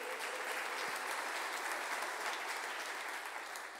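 Steady applause from a church congregation during a Sunday worship service, dense clapping held at an even level throughout with no voices over it.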